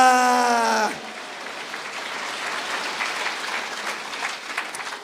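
A church congregation breaks into applause after a tonal musical or sung passage cuts off, leaving a soft, diffuse patter of many hands that swells gently toward the end.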